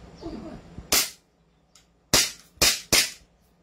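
A Glock 17 pistol fires four sharp, loud shots at a target outdoors, spaced irregularly, with one single shot followed by three in quicker succession, and faint murmuring before the first.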